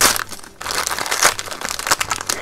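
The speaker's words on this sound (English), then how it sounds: "So the first item I'm going to open is this little package here." Paper crackles and crinkles as a small gift package wrapped in Fab Five wrapping paper is torn open, a close, busy run of rustling and tearing with no voice.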